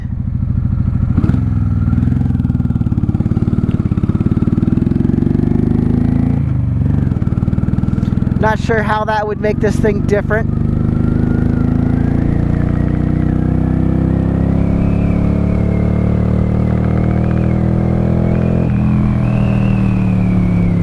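A 1995 Honda Shadow VLX 600 motorcycle engine with open exhaust and a jet kit roars loudly and steadily throughout, with some clattering and a revving burst partway through, while someone talks over it.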